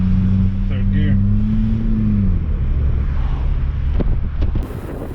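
A hydrogen-powered car driving in third gear, a loud steady engine drone with a falling tone as revs drop, heavy wind rumble over it, close inside the car.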